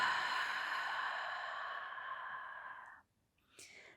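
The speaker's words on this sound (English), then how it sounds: "Full breath out." A long, deep exhale during a yoga cool-down, steady and close for about three seconds before fading out, followed by a brief quieter breath.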